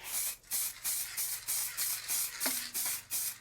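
Rhythmic bursts of spray painting a model locomotive chassis from above in a workshop, about ten short hissing sprays in quick succession with brief gaps, close and fairly loud.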